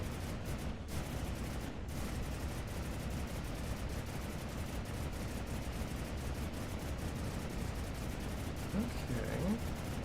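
Turret guns on a vessel in From the Depths fire continuously as a fast, even stream of shots over a dense rumbling background, while a voice talks.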